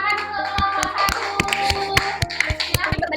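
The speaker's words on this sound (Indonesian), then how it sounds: "Tepuk tangan untuk kelompok" A classroom of students clapping hands for a student group after their presentation, a steady run of sharp, fairly loud claps close by, settling into a rough rhythm over a hum of background tones.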